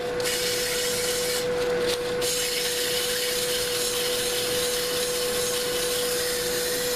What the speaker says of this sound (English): Now we'll move to our 220